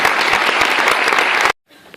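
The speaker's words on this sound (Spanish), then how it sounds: "Ahí pueden dar un aplauso mientras yo me subo aquí." Audience applause at a financial intelligence talk, a dense, loud wash of clapping that stops abruptly after about a second and a half, leaving near-silence with faint room noise.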